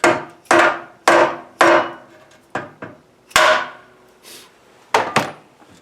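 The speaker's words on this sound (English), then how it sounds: "So just give this a little tap and a little bit of hammer." A hammer strikes a stuck bearing on an Exmark Ultra Vac mower, about ten sharp metallic-woody taps in an irregular rhythm, loud and close with short ringing decays between blows.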